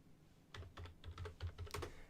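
Fingers tap a computer keyboard at a desk in quick irregular bursts of clicks, close and fairly quiet, with no one talking.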